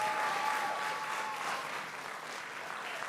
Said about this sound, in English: let's give them a huge roar and a huge round of applause